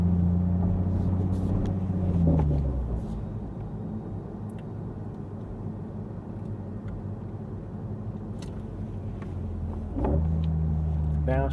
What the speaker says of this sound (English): Downshift, rev matching is enabled at the moment.